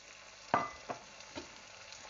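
Tomato and a handful of cashews cooking in a pan for palak paneer: a quiet, low sizzle with a few distinct clinks or taps early on, then soft frying continuing with no talk.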